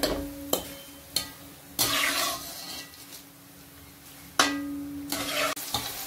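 Onions and chilies frying in hot oil for poha, with sharp clanks of a utensil against the pan and short hissing sizzles rising between quieter stretches of bubbling.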